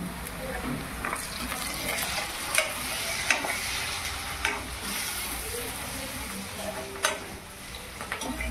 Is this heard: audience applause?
no